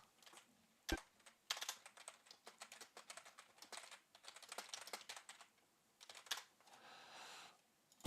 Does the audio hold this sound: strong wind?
no